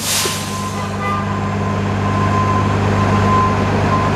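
Buses pull out of a transit depot, a continuous heavy engine drone and road rumble with a faint steady whine, rising slightly as they move off, no talking.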